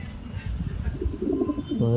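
A young pigeon cooing in a loft with nesting birds, low soft coos repeating close by over a busy background, with a voice faintly present.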